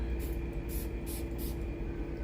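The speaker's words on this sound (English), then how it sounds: "So let's spray that here." Navitus Siesta Drive perfume sprayed from an atomizer in several short hissing bursts, four or five quick pumps close by over a steady background hum.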